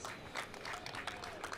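A crowd at a waterski pro tournament in Miami claps and cheers, a faint, distant patter of applause that stays steady throughout.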